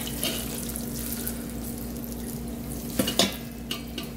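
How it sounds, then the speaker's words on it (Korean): Cooked noodles rinsed in very cold water in a kitchen, a steady close watery wash with a few brief splashes and clinks near the end. "차가운 물에 넣어두면 이게 탱탱해지죠"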